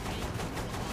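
Sustained rapid automatic gunfire from a machine gun in the video game Saints Row the Third, a dense continuous burst filling the whole moment at steady loudness.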